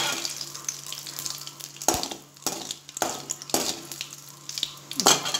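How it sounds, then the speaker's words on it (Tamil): Urad dal roasting in a pan, a soft dry sizzle broken by several sharp scraping stirs at irregular intervals, fairly close with no voices. "உளுந்து சவக்கிற மாதிரி வறுத்துட்டு"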